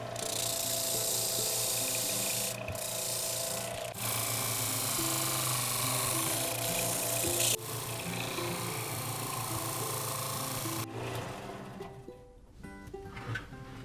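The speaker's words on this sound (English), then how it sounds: "we are moving on to the sander to clean things up just a little bit more" Power sander smoothing a carved wooden bass swimbait lure, a steady motor hum with grinding rub as the wood is pressed against it, ending as the machine winds down.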